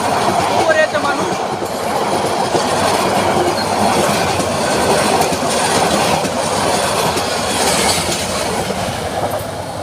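A heavily crowded passenger train, people riding on its roof, rolls past near Raipur in a loud continuous rumble with clickety-clack wheel beats and a brief squeal, while people talk faintly beneath the noise.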